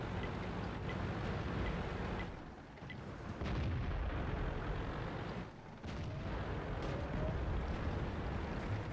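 Tank cannon fire in World of Tanks, heard as a dense, continuous rumble of booming battle noise with a couple of brief dips, loud and heavy throughout, with no talking.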